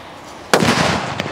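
A Joker Diwali firecracker bursts with one sharp, loud bang, followed by a crackling fizz that fades over about a second, with a second smaller pop near the end.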